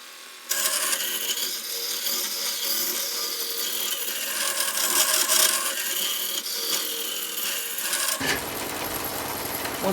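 A hollowing tool cutting into wood on a spinning lathe makes a loud, steady, harsh scraping roar for about eight seconds, then stops abruptly and leaves quieter rustling.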